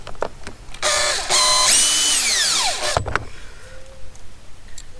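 Power driver running screws in while a kids 12 V electric motorcycle is assembled, a couple of short whirring bursts rising and falling in pitch, close and clear between quiet handling clicks.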